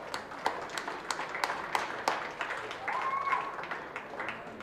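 Scattered applause at a county goat show, a modest crowd clapping with a few distinct sharp claps standing out, fairly quiet and thin, with some background murmur.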